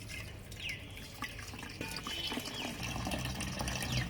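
Water poured from a tap or jug while preparing Afghan doogh with mint, a steady near splashing and trickling fill running throughout over faint background noise, with no talk.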